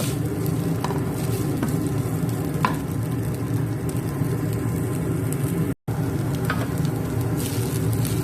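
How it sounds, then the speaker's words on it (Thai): Chinese fish sausage being stir-fried in a pan, a continuous close sizzle with occasional scraping stirs, steady and moderately loud, no speech. "แล้วเราก็ค่อยผัดผัดให้เข้ากัน"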